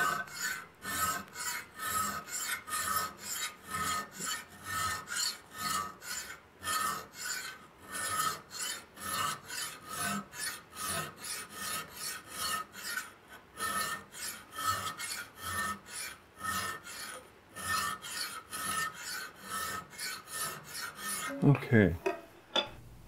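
A spokeshave pulls long, steady rasping strokes across the wooden edge of an archtop guitar to work out a small nick, in an even rhythm of close, crisp shavings that ends with a clatter.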